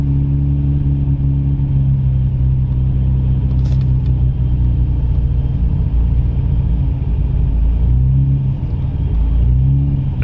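A Nissan R32 GTR with a smooth inline six on a LINK ECU, running steadily off the throttle as a continuous low rumbling drone inside the car, with a brief rise in revs near the end.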